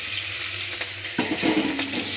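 Potato, plantain and kulpo greens are tossed into hot oil and stirred in a pan, giving a steady sizzle broken by a few close scrapes and clatters, with no one talking.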